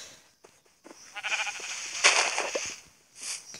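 Sheep bleating in a video game map, a few wavering bleats rising in the middle of the clip and one more at the end, fairly close and clear with no talk over them.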